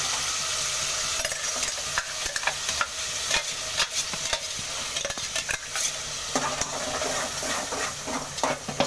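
Ground masala paste for vegetable kurma frying in a pan, with a steady close sizzle and crackle that runs throughout, broken by repeated scraping and stirring clicks.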